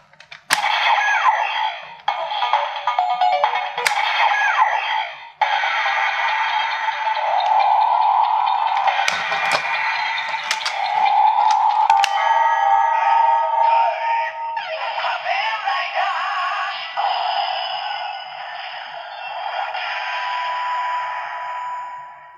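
A Kamen Rider Zi-O DX Ridewatch toy speaker plays a string of bright, crackly electronic effects and jingles, loud and harsh with no low end, over about twenty seconds.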